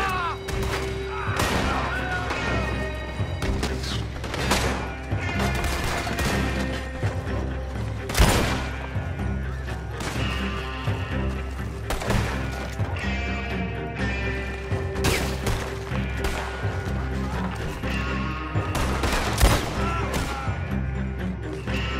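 Gunfire aimed at an oil wagon in Red Dead Redemption 2, with repeated sharp shots and crashes ringing out through a dense, loud, chaotic mix of game sound, and a heavy impact near the middle.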